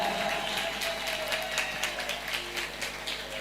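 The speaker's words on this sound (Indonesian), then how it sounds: "Tepuk tangan." A crowd at a haul memorial gathering at Lirboyo Al Mahrusiyah pesantren claps together in a sustained, fairly distant round of applause over a steady electrical hum.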